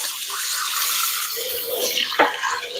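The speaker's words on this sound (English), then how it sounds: "Give this a rinse." Limes rinsed under a running kitchen tap while pico and chicken wings are being made, a steady close hiss of water with a few brief splashes and gurgles toward the end.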